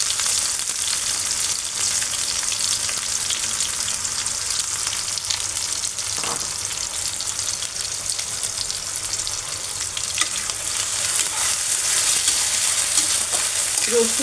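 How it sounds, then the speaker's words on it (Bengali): Onion and garlic fry in a pan as the base for a dried ribbonfish curry, producing a loud, unbroken hissing sizzle with occasional faint stirring clicks and no talking. "পেঁয়াজটা একটু কষায় নেব"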